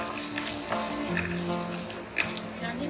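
Onions fry in a pan with a steady moderate sizzle close by, with faint stirring clinks and a soft voice in the background.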